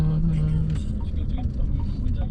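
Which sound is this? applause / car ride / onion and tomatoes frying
car ride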